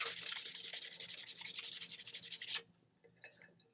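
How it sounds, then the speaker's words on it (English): Rapid rhythmic scrubbing of 320 grit sandpaper over the rim of an epoxy tumbler, a close, fast back-and-forth rasp for two and a half seconds that then stops abruptly. "just going to lightly and gently sand it. Just in that area. And you can see I'm using a 320 grit"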